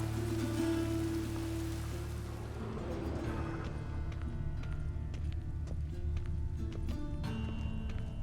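Steady rainfall in The Witcher 3 town, a continuous soft hiss and patter with low ambient rumble, fairly quiet, with faint scattered clicks and knocks.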